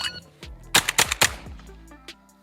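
A Benelli Montefeltro Ultra Light semi-auto shotgun fires a fast string of several sharp, loud shots at a clay target, then a lone fainter pop follows.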